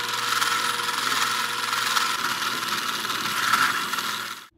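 A continuous grinding, whining drill cuts through stacked steel brackets held in a vise, up close, steady and harsh for several seconds before stopping abruptly.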